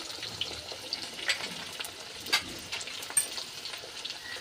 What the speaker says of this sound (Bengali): সিমগুলো আমি একটু ভালো করে ভেজে নেব।